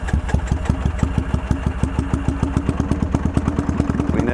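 Motorcycle engine being cranked with the throttle wide open and fuel off, a steady rapid chugging of starter and pistons, loud and close, running without pause.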